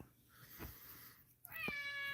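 A house cat meows once, a short rising call close by in a quiet room, after some faint rustling.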